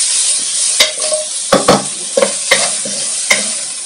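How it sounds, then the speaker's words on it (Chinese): Shrimp heads stir-fry in a little peanut oil over medium-low heat, a soft constant sizzle punctuated by about half a dozen sharp spatula scrapes and pressing knocks against the wok, close and clear. "把我们刚才这些虾头倒进去，翻炒一下，翻炒成虾油"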